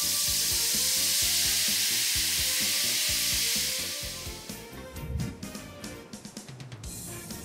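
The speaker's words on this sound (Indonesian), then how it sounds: "Bila semua bahan kita dah serbaki, barulah boleh tumis." Ground rendang spice paste sautés in hot oil with a loud, even sizzle that fades after a few seconds, leaving a softer crackle and a run of rhythmic stirring scrapes against the pan.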